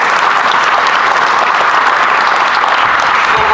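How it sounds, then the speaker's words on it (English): Loud, close, sustained clapping from an audience at a ribbon-cutting event honoring a campaign chair, dense and steady for its whole length. "let's give Linda a big round of applause"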